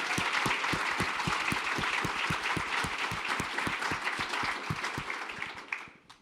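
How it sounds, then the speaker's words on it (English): An audience at an evening climate crisis lecture claps for the event staff, a dense round of applause with distinct individual claps that holds steady for several seconds, then tapers off near the end. "So please, a round of applause for them."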